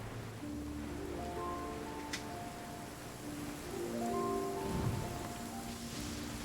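Steady, faint rain hiss falls in a video game, continuous under sustained low musical tones, with no talk.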